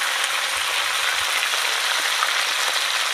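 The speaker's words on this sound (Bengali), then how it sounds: "তো এবার ফুলকপিগুলো আমি সুন্দর করে ভেজে নেব" Cauliflower florets fry in a pan with salt and turmeric, giving a close, constant hissing sizzle with no break across the whole stretch.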